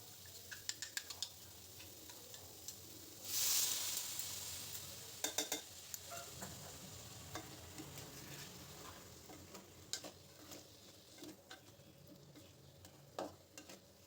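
A spoon stirs a jackfruit curry with ground coriander, cumin and turmeric in a pan, producing soft scraping and sizzling with scattered sharp clicks of the utensil against the pan, one short louder hiss, and no speech.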